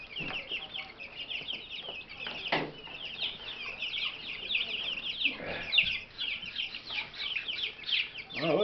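A brood of three-week-old chicks, among them an Australorp hen chick, keeps up dense, high chirping and peeping throughout, close and steady with a few louder bursts.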